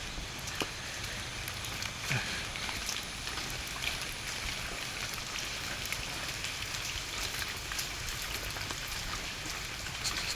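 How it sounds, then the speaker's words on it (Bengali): Steady rain falls around an auto-rickshaw on an early-morning ride toward Kamalapur station, a dense, even patter with scattered sharper drops, continuous and moderately loud with no voices. "ধীরে ধীরে বৃষ্টি পড়তেছে।"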